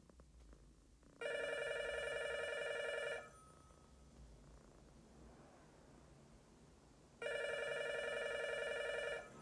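A telephone rings twice, each electronic ring lasting about two seconds with a steady pause between, over faint background hiss before an answering machine picks up.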